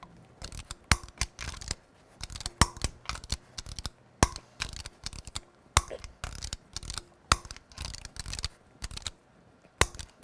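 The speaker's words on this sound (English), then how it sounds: "Now we're going to torque the lug nuts to 140 foot-pounds in a cross pattern to tighten the wheel down evenly." A torque wrench tightens the lug nuts on a 2015-2020 Cadillac Escalade wheel in a cross pattern, giving a run of sharp metallic clicks in repeated bursts with short pauses between them, close and crisp.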